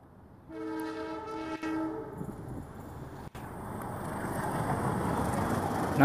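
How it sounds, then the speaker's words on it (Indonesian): A high-speed train sounds a sustained multi-tone horn blast as it leaves Tunnel 11, then the rising rush and roar as it approaches and passes close by. "kereta cepatnya baru keluar dari Tunnel 11"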